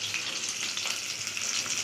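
Fish frying in a pan at the end of a home cooking session, giving a steady close sizzle of hot oil with soft crackles throughout.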